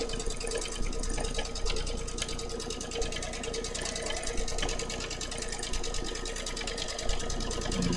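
A domestic sewing machine runs steadily during free-motion quilting at reduced speed, a continuous fast mechanical chatter and hum held at an even level from start to finish.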